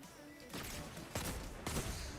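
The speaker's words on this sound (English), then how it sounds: "Getting sniped always sound like someone getting smacked with a wet towel" A sniper rifle shot in the video game Destiny 2 hits with a flat, slapping crack. Several sharp bursts land roughly half a second apart over a noisy battle background.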